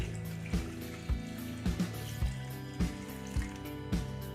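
Water pours into a pot of chicken curry nearby, glugging in regular pulses about twice a second over a continuous splashing flow.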